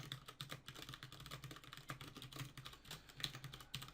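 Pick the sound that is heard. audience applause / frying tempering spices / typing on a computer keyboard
typing on a computer keyboard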